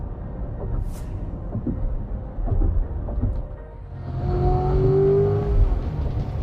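Inside the cabin of a Chevrolet C8 Corvette in sport mode, the stock performance exhaust comes through as a muted low drone, rising into a steadier, slightly louder engine tone as the car builds speed.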